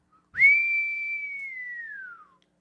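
A person whistles to imitate the wind, a single sustained clean tone held steady for about two seconds before it slowly slides downward and fades.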